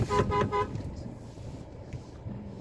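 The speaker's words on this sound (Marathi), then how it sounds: "हॉर्न पण फुल पॉवरफुल दिसतोय रे" A Ford Endeavour's car horn gives a few short, rapid toots at the start, then fades into quiet road and engine background.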